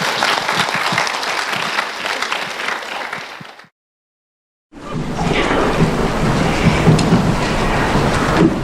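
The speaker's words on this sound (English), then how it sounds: "please give a warm round of applause." Loud audience applause at a youth champions award event in Toronto, a thick wash of clapping that stops for about a second, then returns just as full and steady.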